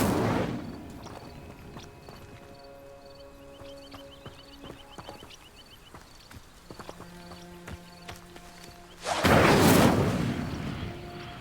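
The Incendio fire spell ignites dry vines in Hogwarts Legacy. Faint clopping and soft game tones give way to a loud, roaring burst of flame that swells for about two seconds near the end. A shorter flare comes at the very start.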